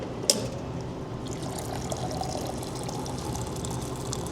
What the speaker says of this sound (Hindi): गर्म पानी लो,